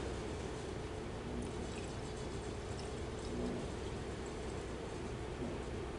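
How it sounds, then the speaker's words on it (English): Water pours steadily from a beaker into a graduated cylinder in a lab, a continuous hissing splash that runs for several seconds with no talk. "if we pour this water into the graduated cylinder"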